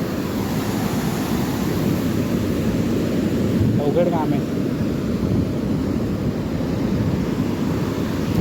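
Sea waves surge and wash up on the sand at Nalasopara beach, a steady loud roar of surf with wind buffeting the microphone, while people talk briefly over it.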